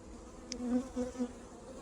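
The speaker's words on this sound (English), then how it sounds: "Both of these fairly small hives are quite active. Lots of bees coming and going" Honey bees buzz around two fairly small, active hives, a low steady hum with a few brief louder swells as bees fly close past.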